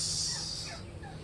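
A brief, faint gobbling burst rises over a hissy, noisy background, like a turkey calling a short distance away.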